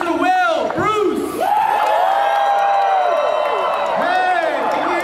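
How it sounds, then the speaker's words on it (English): Audience applause and cheering for a speaker being introduced at a community college education rally, a loud sustained crowd roar with whoops and shouting voices throughout. "Give a big round of applause for Mr."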